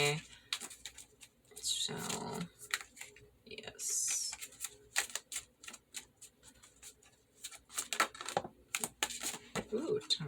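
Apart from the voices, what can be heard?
shuffling tarot cards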